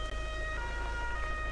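Fire engine siren in the video game Airport Firefighter Simulator 2013, a short steady wailing tone over low engine rumble, no voices.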